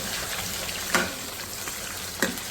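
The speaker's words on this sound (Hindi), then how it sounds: "अब ये सबसे पहले हम ऑयल में डालेंगे, तो अच्छी तरह फ्राई करना है" Large beef pieces frying in hot oil give a steady dense sizzle, near and even, with two brief sharper pops or clinks standing out, no talking.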